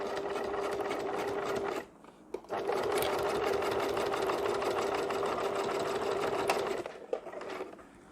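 A sewing machine stitching a zipper onto a fabric school pouch makes a fast, even mechanical whir of stitching, stopping briefly near two seconds and again near the end, close and steady with no speech.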